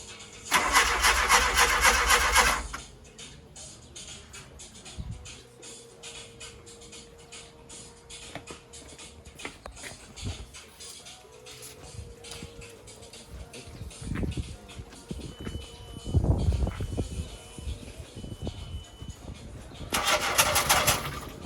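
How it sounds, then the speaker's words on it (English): A car with freshly repaired injectors cranks and fires up, with loud bursts of starter noise at the start and end and uneven engine running and clatter in between, while people talk nearby. "let's go see if it's actually going to help us start up this car"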